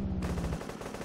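A short burst of rapid machine gun fire from the video game Honor and Duty: D-Day, its quick repeated shots sounding fairly faint and distant.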